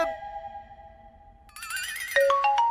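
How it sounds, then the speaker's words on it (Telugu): Mobile phone ringing with a melodic electronic ringtone, a sustained tone followed by a rising sequence of bright chiming notes, clear and fairly quiet, with no talk over it. "ఈ ఫోన్ ఆగదు."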